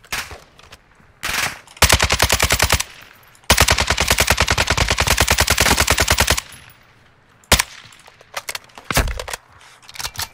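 Kastov 762 rifle fire in the game DMZ, with loud, rapid automatic bursts, including one long sustained burst, broken up by short single shots and brief pauses.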